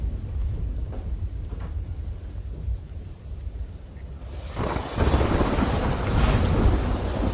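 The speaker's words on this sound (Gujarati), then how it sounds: "વલસાડના ધરમપુરમાં ધોધમાર વરસાદ ખાબક્યો" Heavy monsoon downpour in Dharampur, Valsad, Gujarat, starting as a steady rain hiss with low rumbling, then swelling after a few seconds into a loud, dense roar of rain pounding the ground, with no voices.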